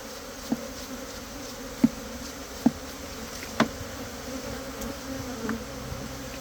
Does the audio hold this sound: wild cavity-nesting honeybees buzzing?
yes